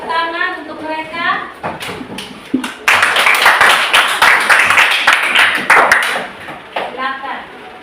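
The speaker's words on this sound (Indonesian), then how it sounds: "kita kasih tepuk tangan untuk mereka" Applause from a classroom audience at a university group presentation session, claps building and sustained over several seconds, with a voice speaking before and after.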